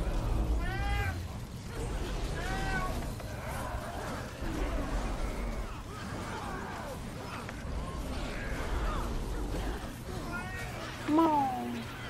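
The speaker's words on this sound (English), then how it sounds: "What does the cat say?" Mr. Jag, a house cat, lets out a series of rising and falling meows, a few clear calls spaced across the stretch and a sharp high one near the end, with people chatting nearby and a low background hum.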